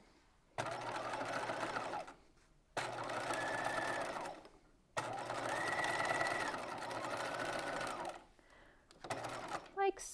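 A sewing machine runs in three long bursts, stitching the seam of a waspie corset belt. Short pauses fall between the runs, and a voice speaks briefly near the end.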